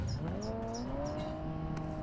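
A vehicle engine drones steadily in the battle-royale game PUBG, its pitch rising and holding as it drives, loud and close throughout, with sharp brief game effects above and no talk.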